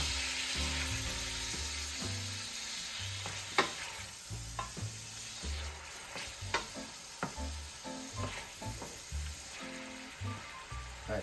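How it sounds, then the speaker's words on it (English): Sausage sizzling in a pan after white wine is poured in, a soft continuous fry with repeated scraping stirs and knocks against the pan bottom over about eleven seconds, fairly quiet, without speech. "I'm going to add a little white wine to this. It'll help pull the flavors off the bottom of the pan."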